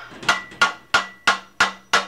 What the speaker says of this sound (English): Push the handle in and tap it in with a hammer.